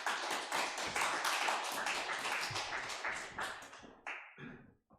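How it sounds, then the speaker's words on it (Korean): An audience applauds a guest lecturer at a special seminar with close, dense clapping. It thins and dies away in the last second, leaving a few scattered claps. "우리 크게 한 박수로 환영하십시다"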